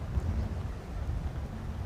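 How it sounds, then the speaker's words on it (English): Steady low wind rumble buffeting outdoors at a wedding, a continuous blustery roar with no other clear sounds. "It's a little windy here"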